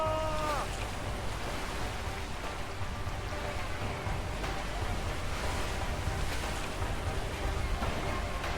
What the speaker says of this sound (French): Arrête de ramer, on est dans une cascade.